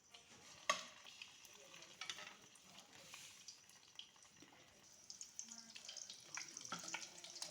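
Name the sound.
sweet French toast bread frying in oil in pan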